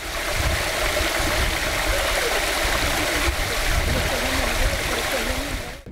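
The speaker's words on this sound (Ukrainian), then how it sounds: "Цей потік води з неприємним запахом тече поблизу Здолбунівського гідропарку із минулої середи." Foul-smelling sewage water flows in a stream near a hydropark in Zdolbuniv, a steady loud rushing and gurgling that continues unbroken without talk.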